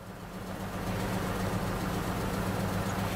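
A 2000 Ford Ranger XLT 4x4 idles after running for a while, a steady low engine hum with an even rumble throughout and no talking.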